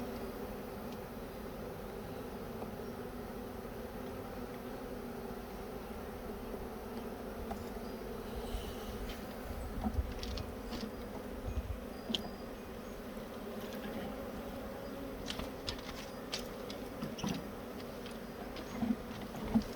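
Honey bees buzz at a hive during a swarm inspection, a steady, dense hum close by with a few brief louder passes and faint clicks, and nobody talks.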